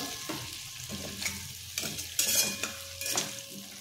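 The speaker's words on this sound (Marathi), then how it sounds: "आणि व्यवस्थित परतून घ्यायचं।" Potato slices with lemon juice are stirred and sautéed in a pan, a soft sizzle punctuated by several distinct spatula scrapes and knocks at irregular intervals, close and fairly quiet.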